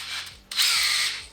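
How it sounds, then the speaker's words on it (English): Power drill with a 1/4 inch bit boring through a board, a brief dip then a sharp rise into a steady high whine, close and loud. "it's a lot easier, I think, in this instance to just use the drill"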